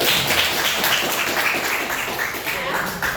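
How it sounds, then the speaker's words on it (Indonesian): A class of students claps steadily in a dense, continuous burst of applause that stays loud throughout, fading slightly at the end. "boleh tepuk tangan untuk 3 teman"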